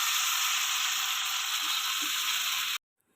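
Nethili anchovies fry in hot oil with a loud, steady, close sizzle and crackle that runs unbroken, then stops suddenly.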